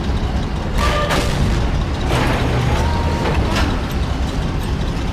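Tank cannon fire and shell impacts in World of Tanks, a few heavy booms and cracks scattered over a dense low rumble of engine and battlefield noise, fairly loud and close.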